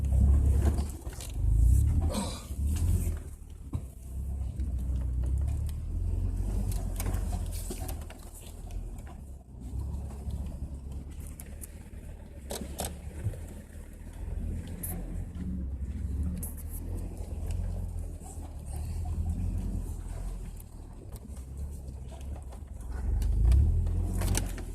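An off-road Jeep engine labours up a rocky trail, a low rumbling growl with uneven surges and bumps as the tires climb over rocks, steady and fairly close throughout.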